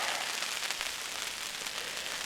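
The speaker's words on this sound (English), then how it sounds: "Starting to rain now." Light rain pattering on a camp tarp at a bushcraft campsite, a steady soft hiss of fine drops with faint scattered taps throughout, continuous and fairly quiet with no talking.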